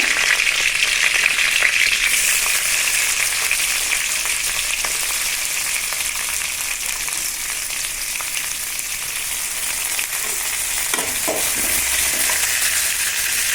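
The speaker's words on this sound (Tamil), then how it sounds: "அன்னாசிப்பூ, பட்டை, இலை, இது பொரிஞ்சதை" Star anise, cinnamon, bay leaf and cloves frying in hot oil for mutton kuzhambu, a loud, even sizzle that holds steady throughout, with a few faint scrapes of stirring partway.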